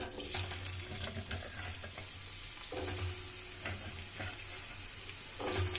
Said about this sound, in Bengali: এবার আলুগুলোকে ভেজে নেব